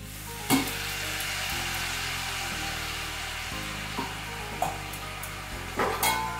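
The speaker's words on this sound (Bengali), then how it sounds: "দিয়ে আবার এটা ভালো করে কচুরলতিটা নেড়ে ছেড়ে নিচ্ছি" Kochur loti (taro stolons) frying in a pan over a low flame, a steady loud sizzle with several sharp scrapes and clacks as the stolons are stirred, no voices.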